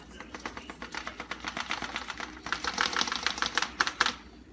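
Loose rice rattles inside an Instant Pot pressure cooker as it is shaken, a fast run of dense, crisp rattling bursts that grows louder and busier toward the end, with no talking.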